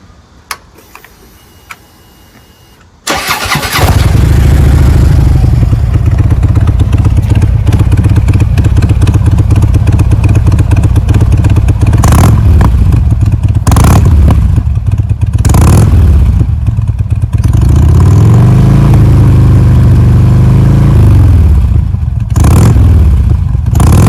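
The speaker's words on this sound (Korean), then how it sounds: "이제 모플러 뭐 소리를 다시 한번 비교를 해보겠습니다" After a quiet start, a Harley-Davidson Twin Cam touring motorcycle with a faulty variable exhaust valve held open starts up and idles loud and close with a deep throbbing exhaust, revving up several times.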